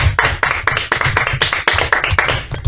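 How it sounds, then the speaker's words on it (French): Guests in a Marseille radio studio clap their hands, a close, brisk run of sharp claps in a fairly even rhythm, dense and loud for a few seconds. "je pense qu'on peut l'applaudir les amis."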